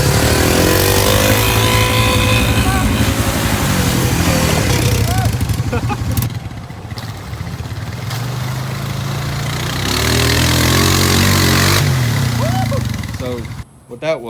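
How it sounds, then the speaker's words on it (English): Honda 300 motorcycle engine running and smoking, loud and close with an uneven idle and revving that dips and surges, while people talk over it. "Bike's running. There's a smoke. It's a Honda though."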